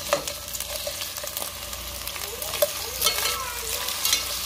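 Garlic and jalapeño sautéing with tomato in a pan, a loud continuous sizzle with scattered spattering pops and stirring scrapes, close up.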